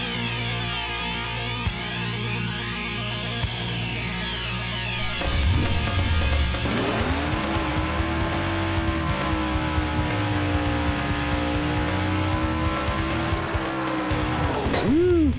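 A pump-gas drag racing car does a burnout at the strip, engine droning and rising in a long sustained tone with tire screech layered over a steady roar, loud and close.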